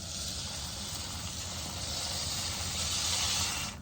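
A steady, broad hiss of steam from boiling water runs continuously for a few seconds at moderate loudness, then cuts off abruptly.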